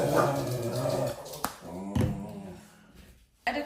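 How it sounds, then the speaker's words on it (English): Dogs bark outside a house, a few sharp barks and yelps heard somewhat muffled at middle distance, with a brief voice nearby. "my dogs are about to go crazy outside"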